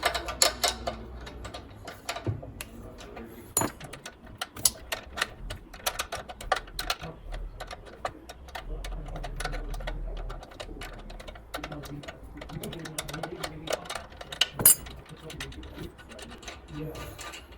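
Nut undone on a Pallmann Cobra 09 floor machine during top roller replacement, a ratchet wrench clicking in short bursts with metallic taps and scrapes, close, while someone talks quietly between turns.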